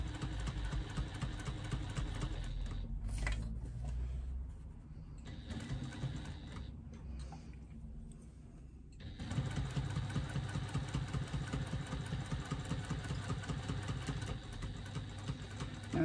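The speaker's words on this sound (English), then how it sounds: "I'm just going to do a couple of back stitches there that will just secure where my previous stitching stopped" Sewing machine back stitching on a bag slip pocket, a close steady mechanical whir with a quieter lull in the middle before running again.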